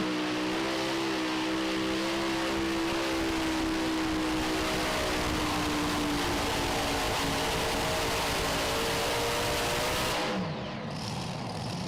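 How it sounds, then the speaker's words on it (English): A super modified tractor roaring down the track at a pro pulling event in Goshen, a loud, sustained engine howl with rising and falling harmonics that cuts off abruptly near the end. "how about the final hook here in the super modified tractor category?"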